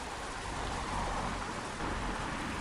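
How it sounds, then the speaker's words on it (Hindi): Heavy rain pours down in a dense, loud, steady roar, with a low rumble underneath that could be distant thunder. It holds unbroken throughout and has no voices. "आसमान में काले बादल छाए हुए थे और तेज बारिश हो रही थी।"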